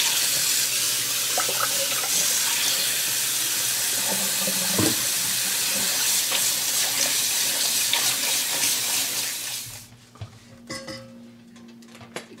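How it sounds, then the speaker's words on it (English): Cold water gushes from a kitchen tap over potatoes in a metal strainer, a loud steady rush with clatters of potatoes and metal, then the flow stops and a few clinks and handling noises follow. "Run some cold water."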